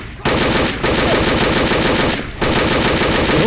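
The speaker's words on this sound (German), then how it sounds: "mein MG ist sehr ungenau" Sustained bursts of machine gun fire in the video game Übersoldier 2, loud and close, rattle in two long streams with a brief pause between them and a short gap near the start.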